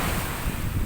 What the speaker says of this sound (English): Every once in a while, we get one of those big old unfriendly waves, slaps the side of Sunshine, and throws spray up on the port side